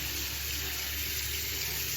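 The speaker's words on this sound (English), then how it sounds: "I'm literally just putting water in my hand" Water runs steadily as it is rinsed from cupped hands, a continuous close splashing wash with no pauses and no talking.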